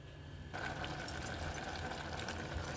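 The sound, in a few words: mixer grinder grinding garlic chili paste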